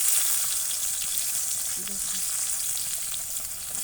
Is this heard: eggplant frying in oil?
yes